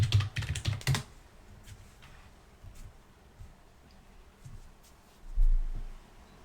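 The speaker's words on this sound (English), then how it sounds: "so I will type my password." A password is typed on a computer keyboard, with a quick run of close key clicks at the start followed by a few scattered softer taps and a low thump.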